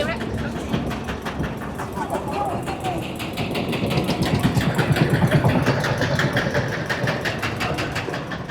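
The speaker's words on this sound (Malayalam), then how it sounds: "ഇതൊരു ബോട്ടാണ്, ചെറിയൊരു ബോട്ട്" A small lantern boat's engine runs steadily with a low, pulsing rumble on the water in Hoi An, Vietnam, close and continuous, while voices murmur over it throughout.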